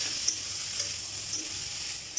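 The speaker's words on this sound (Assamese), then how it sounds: "এতিয়া মই ৰং আৰু হালধিটো ভালকৈ মিক্স কৰি ভাজি লৈছোঁ অকণমান" Food colour and turmeric frying over a medium flame while being stirred, a continuous close hiss of sizzling oil with faint soft scrapes.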